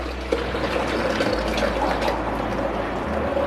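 Cooled raw mango (keri) pulp slides and splashes into a blender jar for aam panna, a steady wet pouring wash with a faint liquid gurgle over low background hum.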